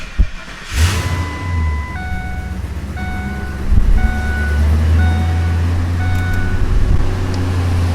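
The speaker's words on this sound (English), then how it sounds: "So if we start the truck up," A truck engine with an exhaust manifold leak cranks and catches, then settles into a loud, steady idle with a low rumble. Faint regular beeping tones run over it.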